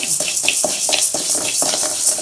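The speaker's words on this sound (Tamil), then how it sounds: "நான் வெள்ளை உளுந்து போட்டிருக்கேன். நல்லா வறுத்துக்கலாம்." White urad dal roasting in a pan while being stirred, a continuous dry hiss with repeated scraping sweeps of a spoon across the pan, close and fairly loud, no voices.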